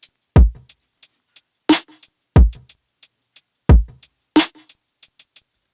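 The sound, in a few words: drum track of a pop song played alone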